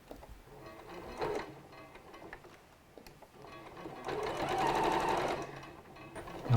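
A sewing machine runs in two stretches, a short burst then a longer steady whir of rapid needle stitching on a quarter-inch seam for a bird pin cushion, close and moderately quiet.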